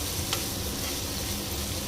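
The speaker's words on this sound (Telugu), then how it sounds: "ఇప్పుడు దీన్ని కలుపుకుందామండి" Chicken curry made without tomato, curd or onion is stirred as it fries in oil in a pan, giving a close, steady sizzle with scraping stirs throughout.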